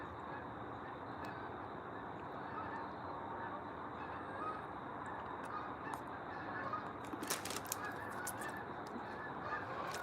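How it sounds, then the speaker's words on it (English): A flock of birds, probably geese, honking continuously at a distance, a dense steady chorus of calls with a few sharper bursts toward the end. "The birds are coming."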